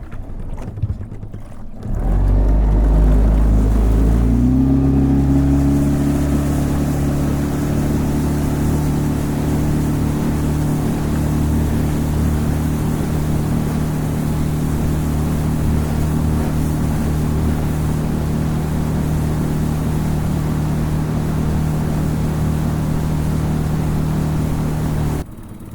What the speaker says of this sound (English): Yeah, this motor ain't running perfect. Something's up with it.